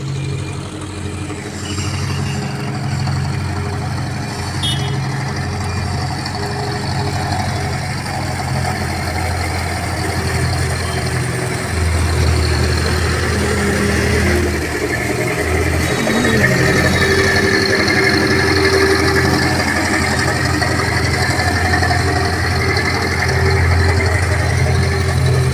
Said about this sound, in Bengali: তখন একটা বড় ট্রলারের মতো আসছে।